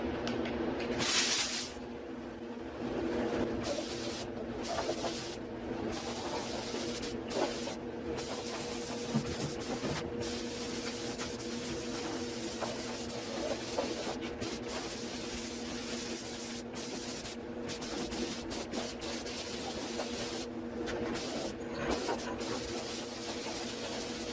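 Rust treatment sprayed as a second coat onto a 2001 Chevrolet Silverado 2500 HD during restoration: a steady, fairly quiet aerosol hiss that runs almost continuously, broken by brief pauses between passes.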